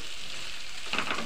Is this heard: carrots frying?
yes